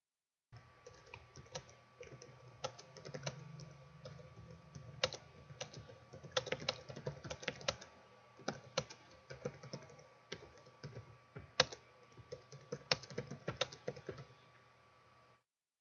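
Keys clatter steadily on a computer keyboard as a message is typed, with bursts of quick clicks and a few sharper keystrokes, close and fairly quiet, no voices.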